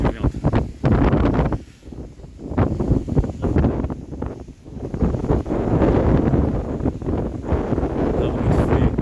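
Strong cold-front wind on the Rio de Janeiro coast buffets a handheld microphone in loud, roaring gusts that surge and ease over several seconds, with possible faint voices under the rush.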